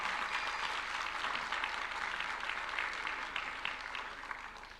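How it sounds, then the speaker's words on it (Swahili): Steady applause from a gathering at State House, Nairobi, during a jersey presentation to a youth football team, dense continuous clapping throughout that eases slightly at the end. "Makofi ijae kabisa."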